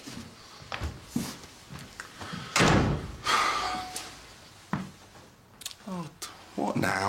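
A door closes in an indoor room, with several knocks and thuds and one heavy slam near the middle, mixed with people talking and moving around.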